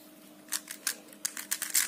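Quick clicking snaps of a magnetic Rubik's cube being turned, a handful of sharp, close clacks in uneven rhythm over a quiet background.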